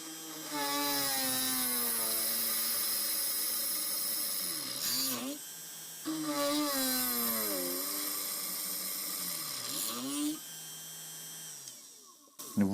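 A small, powerful benchtop drill press boring through 3 mm steel plate, its motor whining steadily with pitch sweeping down as the bit bites, in two long passes close to the microphone, with no talk.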